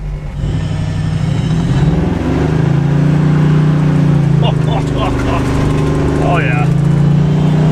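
A $2500 sleeper wagon pulls hard from a standstill, its engine droning loud and steady with a rising pitch between shifts. Someone speaks briefly over it.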